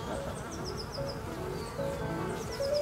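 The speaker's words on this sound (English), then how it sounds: "This bee here doesn't want to leave me alone." A bee buzzes around a beekeeper on a community farm, its whine rising and falling in pitch as it circles close by, fairly faint against quiet outdoor background.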